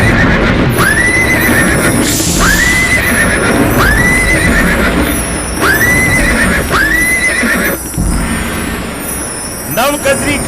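A mare neighs over and over, each whinny rising and falling in turn, over a steady clatter of galloping hooves in a forest setting; loud and close, with no talk.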